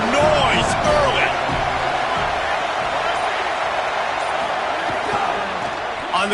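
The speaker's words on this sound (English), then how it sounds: "This crowd bringing the energy and noise early." A stadium crowd at an Oregon football game keeps up a dense, loud roar of voices and cheering that stays steady throughout, with a sharp thud or slam near the start.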